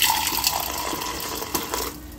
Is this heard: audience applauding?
no